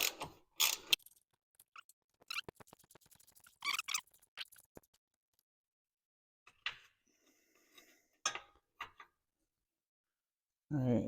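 A ratchet removes the two 13mm exhaust hanger bolts on a Nissan Altima during exhaust leak repair, giving short bursts of clicking under a bay with long quiet gaps and brief talk near the start and end.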